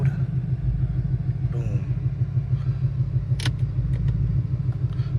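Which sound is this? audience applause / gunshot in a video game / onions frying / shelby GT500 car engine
shelby GT500 car engine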